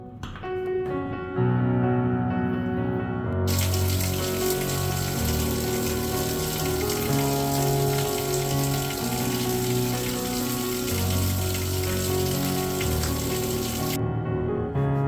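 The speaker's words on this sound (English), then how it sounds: "and outdoor shower" An outdoor shower runs in a luxury villa in the Maldives, giving a steady hiss of falling water. It starts after a second or so and continues without a break, with music playing underneath.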